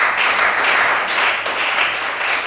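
A church congregation applauding during a sermon, steady dense clapping that stays loud and even from start to finish with no voices heard clearly over it.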